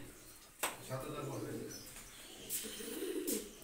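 Pigeons coo softly in low, rolling calls, with a few sharp clatters and some talking nearby.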